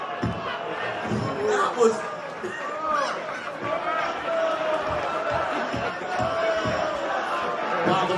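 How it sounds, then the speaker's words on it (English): A rowdy crowd at a talk show taping clamors and shouts, a loud babble of voices with whoops and thumping bursts rising and falling, while a person also speaks briefly over the din. "Wow, the crowd is turning ugly."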